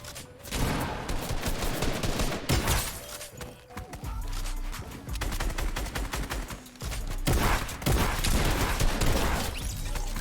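A Fortnite pump shotgun blasts in a burst of rapid, loud game gunfire with crashing impacts, several shots clustered in quick succession close up.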